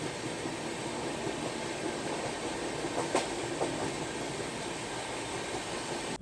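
Inside a second AC coach of the Sampark Kranti Express, a steady train rumble and hum runs throughout, with faint clicks and a couple of brief clacks from the rails.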